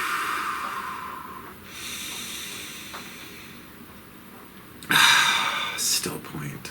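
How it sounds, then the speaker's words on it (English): A single deep breath drawn close to the microphone: a brief breathy rush that swells and fades over a low, quiet background hum. "Please take a nice deep breath."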